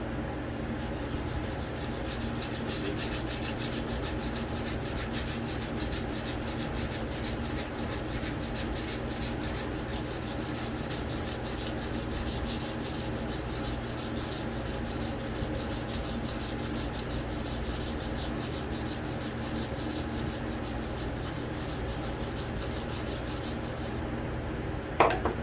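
Steady, continuous scraping of 150 grit sandpaper rubbed along a Bowie knife blade, close and even throughout with no talking, ending in a brief louder knock.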